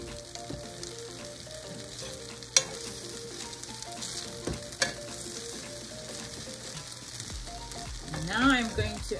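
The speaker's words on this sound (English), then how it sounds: "Going to stir the rice." Curry rice cooking in a pot sizzles softly and steadily as a spoon stirs it, with a few scraping knocks against the pot.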